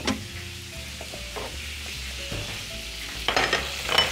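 Kufta meatballs fry in a hot pan with a close, steady crackling sizzle and occasional sharper pops and stirring scrapes, no voices.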